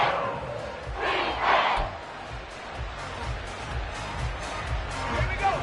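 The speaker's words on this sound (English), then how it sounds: "The Arrowhead crowd in full roar." A stadium crowd at Arrowhead in the Madden 24 football video game, a broad sustained roar that swells briefly and then holds steady, with commentary voices over it.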